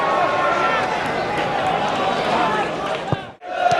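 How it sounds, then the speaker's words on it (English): Newport football supporters in the shed stand near the commentary position make a loud, constant crowd roar of massed voices and chanting that fills the air, briefly dipping near the end. "Oh, a noisy lot, the Newport supporters here in the shed, very close to our commentary position."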